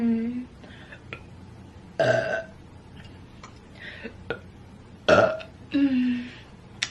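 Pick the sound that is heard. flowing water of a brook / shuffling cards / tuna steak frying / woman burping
woman burping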